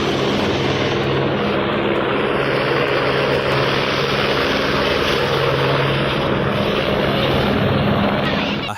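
A helicopter flying among mountains drones loudly and steadily with a dense engine and rotor roar that holds unbroken from start to finish.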